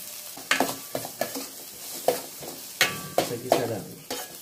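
Onion dropped into a hot pan of cooking oil with ginger and garlic, repeated sharp sizzling bursts and stirring scrapes up close, in a home-cooked papaitan dish.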